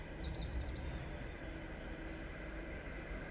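A locomotive-hauled passenger train approaches along a railway line near Cottingley and Morley, a steady broadband rumble that stays fairly even and continuous throughout, with no voices.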